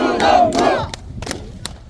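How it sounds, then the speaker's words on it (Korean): Supporters at an outdoor candidacy press conference at a train station in sub-zero cold cheer and shout together, with loud crowd voices in the first second followed by scattered sharp claps and calls. "박수!"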